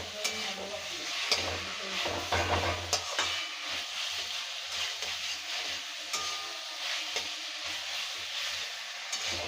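Masala and fried potatoes sizzle and fry in a pan while being stirred with steady scraping strokes, while cooking a Bengali fish head and bottle gourd curry. The sizzling runs continuously throughout with no talking.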